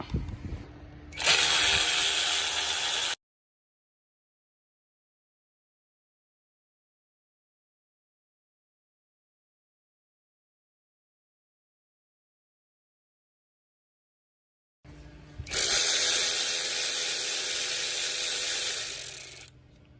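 A power tool whirs loudly in two bursts, a few seconds each, separated by long silence, while bolts are removed from the timing cover of a 2013 L405 Range Rover Supercharged.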